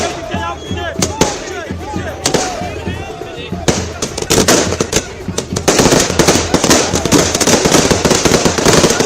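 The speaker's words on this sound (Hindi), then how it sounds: "उसके कार्यकर्ताओं ने पटाखे छोड़ने शुरू कर दिए" Strings of firecrackers burst outdoors at a political victory celebration in Delhi, a dense, loud crackle of rapid pops that builds and continues throughout, with crowd voices mixed underneath.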